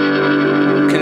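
An electric guitar played through a Digitech Crossroads Eric Clapton pedal on its rotary speaker setting gives a loud sustained chord with a swirling, wavering tone and a brief brighter scrape near the end.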